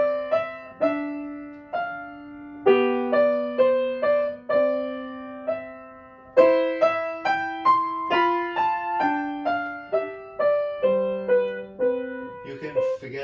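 A single piano plays a short transposed beginner's piece with left hand and right hand together, a clear steady melody over simple bass notes, close and alone without talk.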